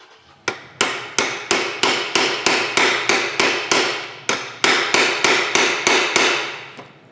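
A hammer pounding an extractor onto a stripped Allen bolt on a car seat, about eighteen sharp metallic blows in a steady rapid rhythm with a short pause midway, close and loud.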